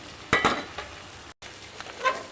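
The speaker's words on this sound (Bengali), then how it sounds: "এবার এর মধ্যে সেদ্ধ করা শাক দিয়ে দেবো" Boiled greens tipped into a hot pan of oil with green chilli after frying fish, giving a sharp burst of sizzle and a few stirring scrapes, then quieter frying.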